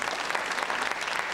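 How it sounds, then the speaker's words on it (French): An audience at a French-language television talk show breaks into dense, steady applause, a close crowd of clapping hands heard alone throughout. "On peut l'applaudir."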